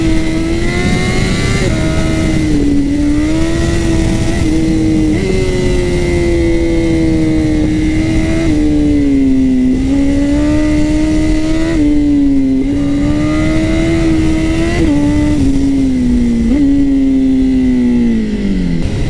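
A Honda CBR 1000 RR-R SP sportbike engine revs hard and loud, rising through repeated gear shifts with strong, steady pitch climbs and brief dips between gears, with no talk over it.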